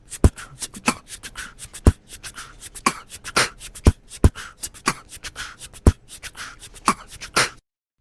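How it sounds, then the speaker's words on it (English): Crisp rhythmic shaker hits, sharp broadband rattles falling in an uneven groove pattern, fairly close and dry, with no voices. "Here's what the third shaker sounds like."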